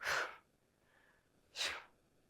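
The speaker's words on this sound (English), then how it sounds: "And I hear you breathing." Two sharp, breathy exhalations spaced about a second and a half apart during Taekwondo exercise, close and fairly quiet, with faint breath between them.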